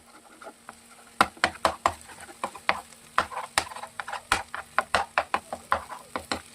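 A spatula chops an upturned egg omelette into pieces in a pan for Udupi-style egg bhurji masala, giving a quick irregular run of sharp taps and scrapes over a low sizzle.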